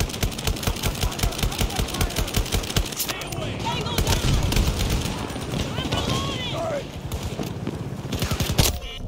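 Fast automatic gunfire in Battlefield 2042 rattles in a steady, rhythmic burst for the first few seconds, then gives way to mixed battle noise and more scattered shots, with voices talking over it.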